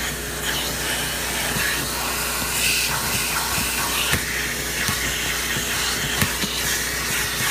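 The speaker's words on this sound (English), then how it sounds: "You always want to look down here and make sure you're not vacuuming up change or jewelry or anything like that." A vacuum cleaner working over a car interior, a continuous loud broadband roar and hiss with small bumps and knocks as the nozzle moves around, close, with no talking.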